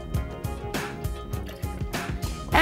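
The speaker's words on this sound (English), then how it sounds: "Next, we'll add about 1/2 ounce of simple syrup." About half an ounce of simple syrup poured into a mixing glass for a non-alcoholic cocktail, heard up close as a run of small glugging drips and splashes, ending with a brief brighter clink.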